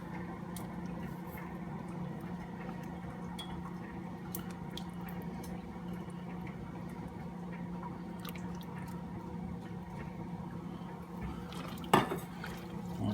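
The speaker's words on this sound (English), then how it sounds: "We'll just stir that together." Honey is stirred into two quarts of stock for a turkey brine in a pot, giving a steady, soft wet swishing with faint clinks and a sharper knock near the end.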